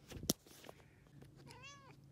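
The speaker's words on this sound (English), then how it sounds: "This is my cat." A single soft cat meow rises and falls near the end, faint and close, after a couple of sharp clicks.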